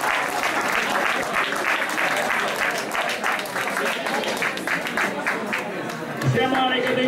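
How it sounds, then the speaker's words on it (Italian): Applause from an outdoor crowd at the Milanino sotto le Stelle evening race for the two race winners, steady dense clapping throughout with crowd noise, a voice briefly audible near the end. "Ce la possiamo fare un applauso ai due vincitori"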